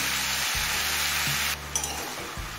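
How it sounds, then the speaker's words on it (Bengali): Capsicum pieces tumble into a pan where pumpkin and frozen peas are frying, making a continuous close sizzle broken by a few soft stirring scrapes and taps. "আর দিচ্ছি কিছুটা পরিমাণ ক্যাপসিকাম।"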